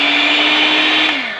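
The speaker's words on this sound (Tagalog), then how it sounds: "Ngayon ay gagamit tayo ng hand mixer." A hand mixer whirs steadily as it beats a mango ice cream mixture in a bowl, its high motor whine holding constant before dipping in pitch as it slows at the end.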